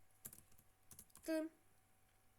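Quick clicks on a computer keyboard during a Minecraft survival session, a few scattered keystrokes and a short burst of taps, quiet and close.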